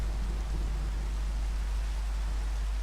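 Steady rain falling in Minecraft, played with the SkyFactory 3 modpack: an even, continuous wash of hiss holding level throughout, with no talk over it.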